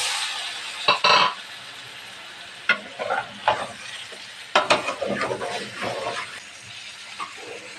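Potato and eggplant hit a pan of cooked-down spiced masala, sizzling and hissing while a spoon stirs and scrapes in bursts, with occasional metallic clinks, close and clear.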